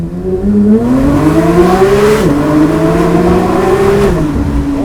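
A Porsche GT3 with a straight-pipe titanium exhaust revs hard and loud, its engine note climbing in a sustained rise before a sharp downshift blip and a second climbing pull.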